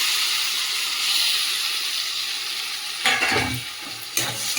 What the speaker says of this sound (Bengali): দিয়ে এবারে ভালো করে নাড়বো তেলের মধ্যে